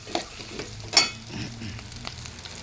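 Ingredients for sotanghon frying in a pan, a steady low sizzle with a sharp stir-scrape near the one-second mark and soft clatter of utensils, close and moderately quiet.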